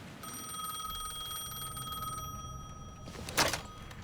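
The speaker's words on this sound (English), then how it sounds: "The phone was ringing again." A telephone rings in the video game Alan Wake 2, a steady electronic trill holding for about three seconds over a quiet low hum, then cut off by a brief brighter clatter.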